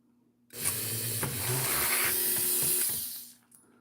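Dremel rotary tool cutting into resin and clay, a close, hissing grind that starts abruptly, runs steadily for about two and a half seconds, then cuts off.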